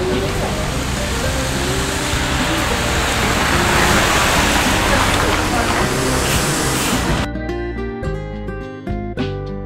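Heavy, steady rain pours down with a dense hiss, then abruptly drops away near the end to a quieter, clattering patter of drops.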